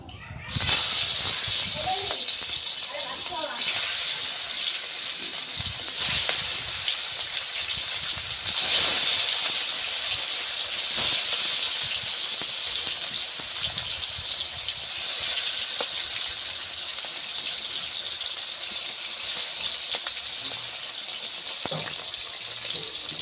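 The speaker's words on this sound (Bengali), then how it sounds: "তেল গরম হয়ে গেছে আমি এবার মাছগুলো দিয়ে দিচ্ছি" Pieces of shankar fish (stingray) drop into hot oil in a kadai and sizzle with a loud, dense, continuous hiss and crackle throughout, with occasional spitting pops.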